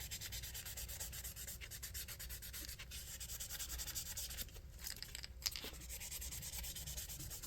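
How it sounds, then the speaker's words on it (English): Steady, continuous sanding of a hard plastic crankbait fishing lure before painting, a dry scratchy rubbing that runs without pause at close range. "I'm sanding it now because I'm going to sand the whole thing."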